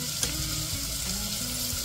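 Onion, tomato and spices fry together in a pan for a prawn pulao, making a loud, dense sizzle that runs briefly and continuously with one small clack near the start.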